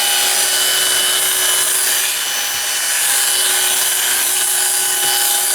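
A Procraft PWA220 cordless angle grinder with a rubberized, powder-coated body runs steadily with a fairly quiet, continuous high-pitched whine and hum, close and alone without talk.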